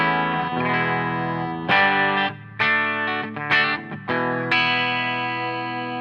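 Epiphone Jerry Cantrell Les Paul Custom Prophecy electric guitar with a split bridge pickup, a thin, bright tone, playing sustained chords with several restruck strums, clean with a slight effects shimmer and no talking.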